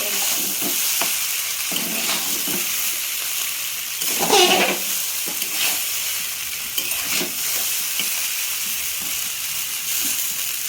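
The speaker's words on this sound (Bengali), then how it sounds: "এদিকে চাউমিন ভাজা" Chow mein noodles sizzle and hiss in a hot pan, a constant frying crackle with occasional stirring scrapes and clatter.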